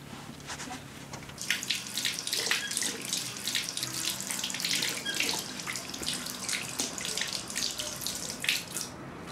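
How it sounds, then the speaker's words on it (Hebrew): Water runs from a tap while someone washes their hands. A steady stream splashes into the basin, with brief louder gushes and small splatters throughout. "אני בכל זאת חייב לשטוף ידיים. יש כאן איזה ברז למטה?"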